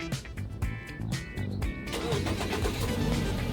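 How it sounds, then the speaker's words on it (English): A Jeep Renegade with push-to-start started by remote: a short cranking burst catches into a steady idling engine, heard close and moderately loud, with a few clicks before the engine takes over. "The car starts."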